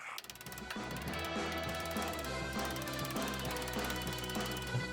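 Rapid, ringing metal hammering on the body of a 1970 VW Beetle, blows coming quickly and steadily with a hard metallic clang throughout.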